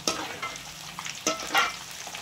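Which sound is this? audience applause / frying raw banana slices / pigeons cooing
frying raw banana slices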